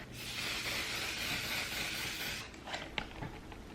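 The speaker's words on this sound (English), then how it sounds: "I'm using my On Till Dawn Mattifying Waterproof Setting Spray from One Size" One Size On Till Dawn mattifying waterproof setting spray hisses from its bottle in one long, close, steady mist lasting about two and a half seconds, followed by a few soft clicks and handling sounds.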